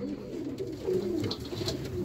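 Pigeon of the Sialkoti black-faced breed cooing softly, a low murmuring coo under faint background noise, close but quiet.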